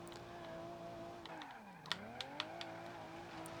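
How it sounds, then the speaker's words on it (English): Simulated car engine in the BeamNG Drive driving game, a steady droning tone that dips in pitch and climbs back as revs fall and rise, with a few sharp clicks over it, no talking. "if you've been listening acutely to the sounds of this car, I don't think it sounds particularly like the R34."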